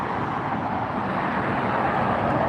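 An Aeromexico airliner taxis at LAX with a loud, steady jet-engine roar and broad rushing hum that stays constant throughout.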